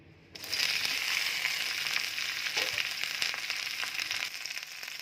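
Okra hits a little hot oil in a kadhai and a strong sizzle starts abruptly, then carries on steadily with crackles and pops and eases slightly toward the end. No one speaks.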